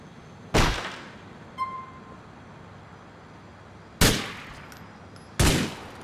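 Sharp gunshots in Grand Theft Auto 4, three loud isolated blasts with a fainter pop between them, each ringing off quickly over a quiet background.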